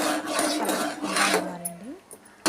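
Semolina is stirred in a pan for ravva kesari, a South Indian sweet, with a dry, raspy scraping of the spoon across the pan in repeated close strokes.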